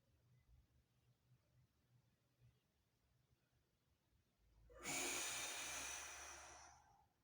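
After a quiet stretch, one forceful, hissing yogic exhalation of breath rushes out loudly for about two seconds and then tapers off, close and alone.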